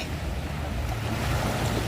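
Sea waves wash onto a busy beach with clear blue water, a steady close roar of surf and wind noise against the microphone.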